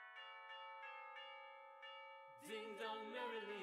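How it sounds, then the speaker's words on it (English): Bells ring with sustained, rich tones that resonate across the first couple of seconds, then a brighter, busier burst of ringing clangs in. "the bells are ringing"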